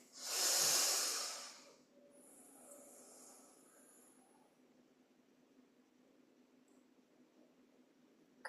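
One loud, close breath is drawn and released during a yoga practice, with a strong airy hiss. It fades into a soft, steady room hum and faint quiet shuffles.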